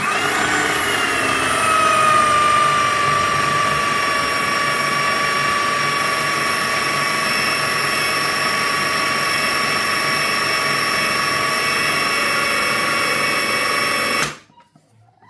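A Kenwood MultiPro Go FDP22 food processor motor runs under heavy load while thickening dough, whining in a loud, steady, high-pitched drone for about fourteen seconds before it cuts off abruptly into near silence.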